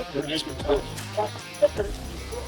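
Mastiff dogs barking at a bite sleeve training event, a few short yips and barks in quick succession over background crowd noise.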